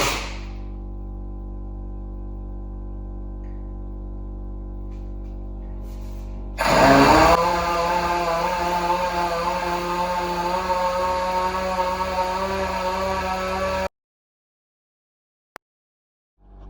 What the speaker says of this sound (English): I'm just going to sand it out.